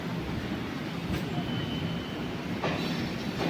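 A Ernakulam–Palakkad MEMU Express train rolls into Palakkad Junction, giving a steady close rumble of wheels on rails with faint clacks and a light squeal, no voices over it.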